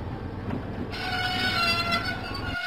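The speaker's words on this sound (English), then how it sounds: "Diesel set out for Farmer McCall's farm." A diesel engine train in a Thomas and Friends video game rumbles along the track with a steady mechanical chugging and a rising tonal hum, close and continuous, without speech.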